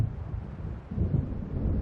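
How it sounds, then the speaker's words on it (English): Low, deep rumble of thunder from an approaching storm in the game Alan Wake Remastered, rolling and swelling toward the end, with wind noise mixed in and no voices. "It seems there's a storm coming."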